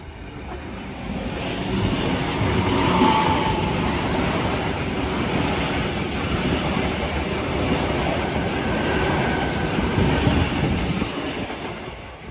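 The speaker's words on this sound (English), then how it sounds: "Riding the Kiama Picnic Train to Kiama." Kiama Picnic Train passing through Tempe Station, Sydney, a steady loud rumble of rail wagons with faint clickety-clack running the whole time, no voices.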